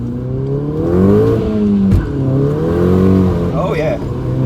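A 2012 VW Golf GTI with a 2.0 TSI engine accelerating hard in first gear from inside the cabin, its engine note rising and falling in a sustained drone, with a voice talking over it.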